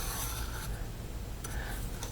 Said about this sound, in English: the easiest way to do this is to just draw a line from corner to corner